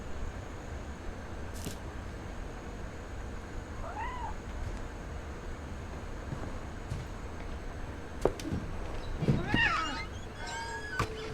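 A cat meows in the video game What Remains of Edith Finch: a few short, fairly quiet meows rise over a steady hiss of background ambience.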